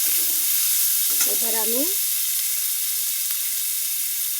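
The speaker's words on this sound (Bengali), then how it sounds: "পেঁয়াজ ভাজা হচ্ছে।" Onions fry in a pan with a constant loud sizzle and hiss throughout; a voice briefly speaks over the crackle near the middle.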